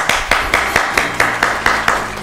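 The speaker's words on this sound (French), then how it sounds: "je vous prie d'applaudir le dessin de Noam" A small audience claps for a child's drawing on a children's television show, about ten slow, evenly spaced loud claps in a steady rhythm, close and clear with no talking.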